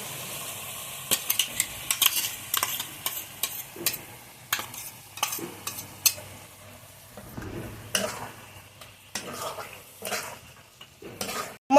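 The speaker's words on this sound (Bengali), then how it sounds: "মশলাগুলো মাংসের সঙ্গে ভালোভাবে কষিয়ে নেব মাংসটা নেড়ে দেব" Beef with dried chilli, coriander and chui jhal spices is stirred and fried in a pan, with repeated sharp scrapes and clinks of a utensil over a low, steady sizzle.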